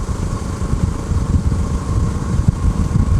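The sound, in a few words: single-cylinder Kawasaki motorcycle engine purring at low revs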